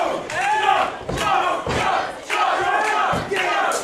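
A wrestling crowd chants for Big Guns Joe, loud and rhythmic, in repeated bursts of massed voices that fill the arena.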